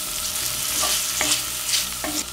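Butter and raisins fry in a pan for plov, with a steady close sizzle and a few soft stirring scrapes, no voices.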